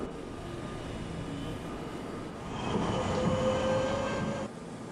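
A New York subway D Express train runs with a steady rumble and rattle, and thin wheel squeals rise in the middle. The sound is moderately loud and heard from inside the car.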